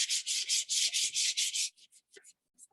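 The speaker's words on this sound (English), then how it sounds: "some really fine grit sandpaper." Fine grit sandpaper rubs across a wooden surface being prepped for mesh stencils, about ten rhythmic close back-and-forth strokes that slow into a few lighter scrapes, with no speech.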